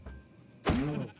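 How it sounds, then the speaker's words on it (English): A Minecraft cow gives a single low, drawn-out moo that starts abruptly after a quiet moment and slowly trails off, fairly close and alone. "this biome does seem to be spawning cows. They make a satisfying noise"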